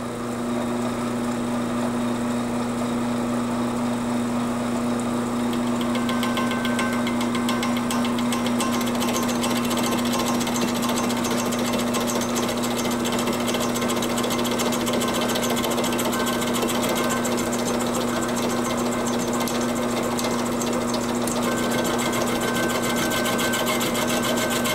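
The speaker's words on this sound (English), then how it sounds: "now I'm going to extend my boring bar a little bit that way" A line boring bar machines the worn bore of a Kubota quick attach, taking cuts of about 20 thousandths per pass, heard as a loud, steady machine drone with a constant hum throughout and no talk.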